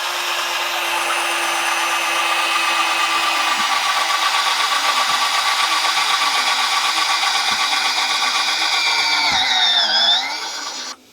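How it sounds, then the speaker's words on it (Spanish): A large drill bit bores into aluminium, a close, loud, steady whine with a strong pitched tone that holds for about ten seconds, then bends and wavers as the bit breaks through before the motor cuts off. "Voy a utilizar ahora una de las brocas grandes aquí en el aluminio."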